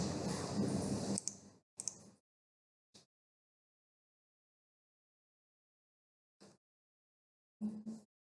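A computer keyboard clatters in a dense burst of typing while a SQL Server primary key is entered, then falls to silence broken by a few isolated, crisp keystroke clusters.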